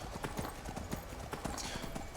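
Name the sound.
horse hooves clip-clopping in video game Skyrim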